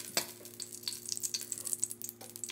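Butter sizzles and crackles in a hot pot while beef caldereta is being cooked, a steady close frying hiss with sharp pops and a brief stir near the start, no talking.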